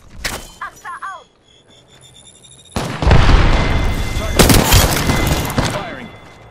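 Gunfire in the video game Apex Legends: a sharp boom and brief calls open the clip, then a dense, loud burst of sustained shooting and blasts fills the rest, with a voice heard early on.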